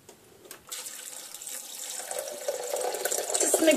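Water pours from a tap into a blender holding soaked, softened nuts, a faint start building into a steady rushing splash that grows louder toward the end, with no talking.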